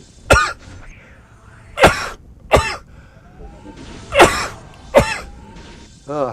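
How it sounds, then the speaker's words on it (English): A person sneezing several times in quick succession, sharp close bursts that sound much like coughs or throat clearing, separated by brief pauses over faint background voice and game sound. "it's just a sneeze"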